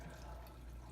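Chicken stock is poured over ham and cabbage in a pot, a brief, soft, steady splashing trickle of liquid.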